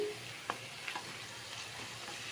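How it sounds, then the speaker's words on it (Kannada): Tomato and capsicum frying in a pan, a faint, steady sizzle with a few brief clinks of stirring. "ಹಾಕಿ ಸ್ವಲ್ಪ ಫ್ರೈ ಆಗಲಿ ಸ್ವಲ್ಪ ಉಪ್ಪು ಹಾಕೊಂಡ ಬೇಗ ಟೊಮೊಟೊ ಫ್ರೈ ಆಗುತ್ತೆ"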